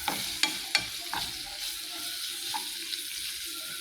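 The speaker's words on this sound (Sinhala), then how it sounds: "මම වෙනම තමයි මේක පොඩ්ඩක් ෆ්‍රයි කරලා රයිස් කුකර් එකට එකතු කරන්න යන්නේ" Ingredients fry with a soft sizzle in a pan, punctuated by a few sharp metallic clinks and scrapes of stirring.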